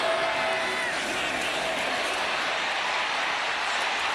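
A large crowd roars and cheers in a football stadium during an Alabama at South Carolina college game, with loud, sustained, dense noise and no clear breaks across the whole stretch.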